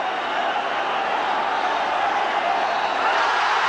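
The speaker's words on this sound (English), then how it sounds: "the crowd ecstatic" A cricket crowd at an India versus England match roaring as Andrew Flintoff is run out, a broad, sustained wash of cheering that stays loud and even throughout.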